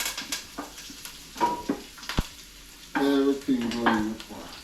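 Food sizzling and frying in hot oil in a pot with seasoning added, a steady crackle that swells loudly partway through as items drop in, with stirring and a sharp utensil knock, no talking.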